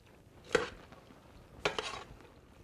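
Fettuccine ingredients being mixed together, heard as two short, soft clattering scrapes of a utensil in a bowl about a second apart, with quiet room tone between them.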